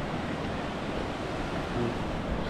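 Sea waves wash onto the shore in a continuous, fairly loud roar mixed with wind, and no voices are heard.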